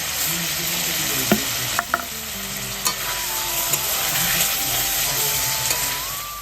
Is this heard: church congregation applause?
no